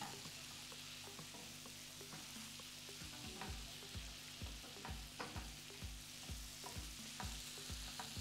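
Onion, bell pepper and tomato frying in oil while being stirred, with a steady faint sizzle under a run of regular scraping stir strokes, close but quiet.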